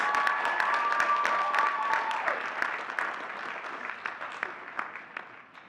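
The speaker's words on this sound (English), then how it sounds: "Can I get a round of applause for my parents, please?" Commencement audience at a City College of New York graduation applauding, a dense wash of clapping that is fairly loud at first and thins gradually, with a faint whistle-like tone early on.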